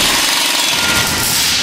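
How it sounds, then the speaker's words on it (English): A large Jacobsen riding lawnmower runs inside a factory. The engine drones loud and close with a steady, rough, continuous roar. "What am I doing on a huge running lawnmower in the middle of a factory?"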